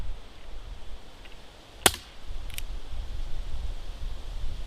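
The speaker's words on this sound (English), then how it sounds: "I believe that was 5 shots" A single sharp crack from an Umarex Avera air pistol, brief and close, with a fainter follow-up click a moment later against quiet room noise.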